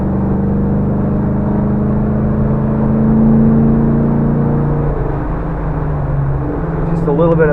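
Jeep Wrangler JK with a 6-liter V8 swap accelerating to merge onto a freeway, a steady deep engine drone rising slightly in pitch under someone talking over it from inside the cab.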